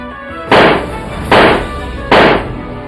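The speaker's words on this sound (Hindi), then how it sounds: "ताबड़तोड़ फायरिंग शुरू कर देते हैं।" Three sharp, loud gunshots ring out at steady intervals, close and unaccompanied by talk, as bike-riding attackers fire outside a hospital owner's house in Jodhpur.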